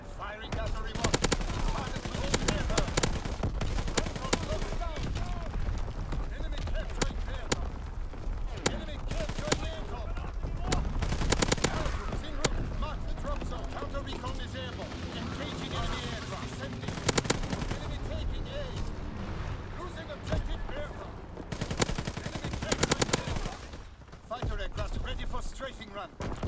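Rapid machine-gun fire from a WW2 strafing run in Call of Duty WW2, dense bursts of automatic shots running almost continuously over other battle noise, with game voice callouts heard throughout.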